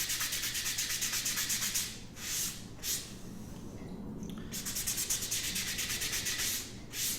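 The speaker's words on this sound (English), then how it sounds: "This is my 400 grit sandpaper. I'm going to do a little wet sanding on this" Rhythmic rubbing strokes of wet 400 grit sandpaper across a round foam spike, close and steady in quick back-and-forth bursts with a few short pauses between runs.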